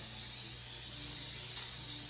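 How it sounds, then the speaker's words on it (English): Cooking spray hisses into a Bundt pan for a chocolate Bundt cake, a single continuous close-up spray lasting about two seconds. "So now I have my Bundt pan, and I'm gonna spray it really good."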